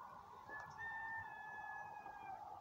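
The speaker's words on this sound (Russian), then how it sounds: "Слышите, петух у кого-то поет." A rooster crows in a snowy village in early March, one long drawn-out call rising and holding steady, faint and distant over a quiet outdoor hush.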